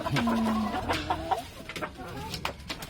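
Chickens cluck in short, irregular bursts close by, with faint background voices and farmyard noise.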